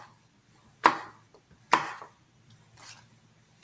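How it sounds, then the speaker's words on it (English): A knife chops fruit and vegetables into small pieces on a board for juicing, two sharp, close chops followed by lighter, fainter cuts, with no talk. "I am trying to cut up things rather small so we can help, since I don't have a juicer"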